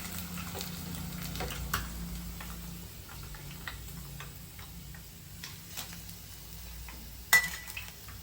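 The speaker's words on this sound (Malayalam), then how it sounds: "ഫിഷ് ഫ്രൈ ആയിട്ടുണ്ട്, നമുക്ക് കോരി കോരി എടുക്കാം" Crispy fish fries in hot oil with a faint, steady sizzle, broken by scattered ticking clicks and light stirring sounds of pieces being lifted from the pan.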